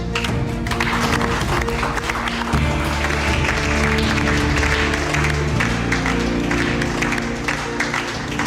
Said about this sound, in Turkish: piyasada Tilki adıyla bilinen hırsızımıza bir alkış